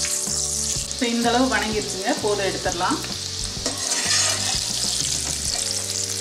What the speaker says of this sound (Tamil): நம்ம வேக வச்சிருக்க உருளைக்கிழங்கையும் நாம ஃப்ரை பண்ணி எடுத்துடலாங்க.